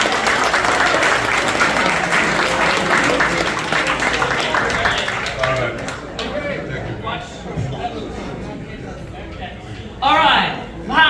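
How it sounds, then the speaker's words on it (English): An audience at a Sacramento blues hall of fame awards event applauds Ray Catfish Copeland, full clapping for several seconds that fades into chatter and a nearby voice. "let's hear a nice round of applause for Catfish"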